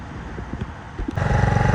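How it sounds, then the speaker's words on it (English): A GY6 scooter engine, freshly fitted with an oil cooler and exhaust wrap, settles into a steady low idle partway through. Its close, throbbing rumble follows a few scattered knocks and clicks. "Got it all running, it's idling."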